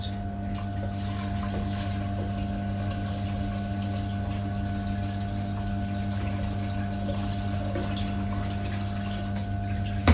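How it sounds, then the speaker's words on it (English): Water runs steadily from a tap into a pot holding a pigtail for scalding, a constant rushing flow with a low hum beneath it, loud and close, with no talking. "let's go ahead and get some water on that."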